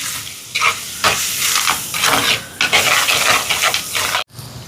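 Pepper and chili powder are stirred into a curry in a pan, loud bursts of sizzling and steamy hiss with scraping stirs that rise and fall, ending in a sudden short cut before resuming.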